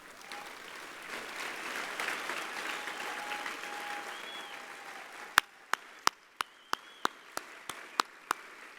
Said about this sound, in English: I want to begin by asking those of you who have served in the uniform of the United States to stand up and accept our applause and thanks.